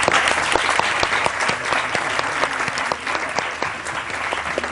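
Studio audience on a morning television show gives a guest a loud, continuous round of applause, many hands clapping steadily and close by for several seconds.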